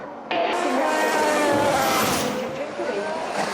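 A Formula 1 race car engine from the quieter modern era tears past up close, a loud, sustained high-pitched whine that starts abruptly and holds before easing slightly as it fades.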